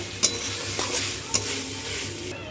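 Chow mein seasoning with tomato sauce, vinegar and soy sauce is stir-fried in a pan, a soft continuous sizzle broken by a few sharp metallic clinks of a utensil against the pan.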